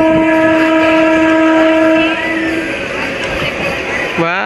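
A Narasapur–Guntur passenger train pulling into Ramavarappadu station sounds a loud, sustained horn for about two seconds, then rolls on with a rumbling, clattering ride and a brief rising squeal at the end.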